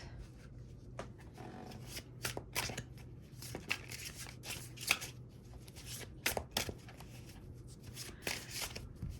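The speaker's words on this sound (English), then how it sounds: "Let me give these a shuffle." Tarot cards are shuffled by hand close up, giving quiet riffling and soft slapping bursts at an uneven rhythm, with no voices.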